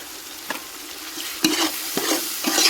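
Ginger garlic paste being mixed into sizzling biryani masala for soyabean biryani, with a steady frying hiss and four distinct spatula scrapes against the pan.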